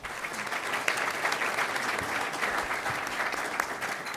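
Steady applause from an audience at a public meeting on city finances, many hands clapping evenly and fairly close throughout with no talk over it.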